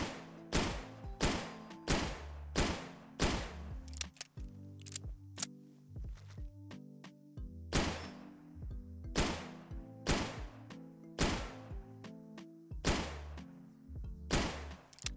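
Pistol from a Fallout 4 mod, a New Vegas classic, fires a dozen or so sharp, close shots in uneven bursts, each with a crisp mechanical clack and brief tail, no talk.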